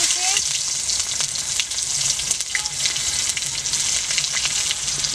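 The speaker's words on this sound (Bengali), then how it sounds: "পেঁয়াজটা আমার ভালো করে ভাজতে হবে।" Chopped onion with whole cumin, garam masala and green chilli frying in hot oil for a Bengali fish curry, a steady close sizzle with crackling pops throughout.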